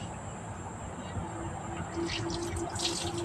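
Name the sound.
washing vegetables under running water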